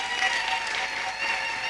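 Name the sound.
applause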